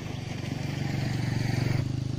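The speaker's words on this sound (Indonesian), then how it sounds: "Ada motor yang lewat," A motorcycle putters past rice fields in rural Bali near Ubud, its engine a steady rhythmic chug that swells as it draws close, then drops away sharply near the end.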